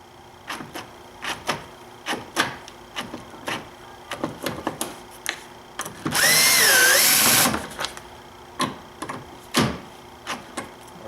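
A powered driver buzzes in short bursts, with clicks and rattles between them, as T30 Torx screws come out of the engine air snorkel on a BMW N52 six-cylinder, and one longer whirring run sits in the middle.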